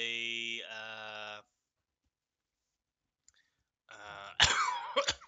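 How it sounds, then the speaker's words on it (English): A sustained voiced tone, then a pause of silence, followed by a few harsh, close coughs in quick succession. "sorry, I still have a cough."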